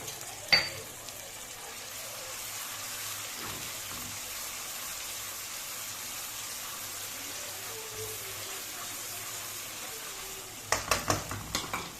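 Ginger garlic paste frying with onions in a pan, a steady soft sizzle running throughout with a few sharp clatters of stirring near the start and a burst of clanks at the end.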